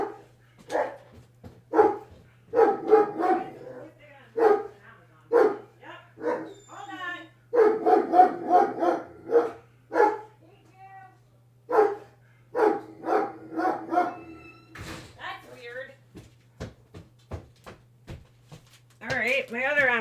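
Pet dog barking indoors in repeated bursts of sharp barks and yips, close and loud, with a short whine near the end, while a person talks between barks.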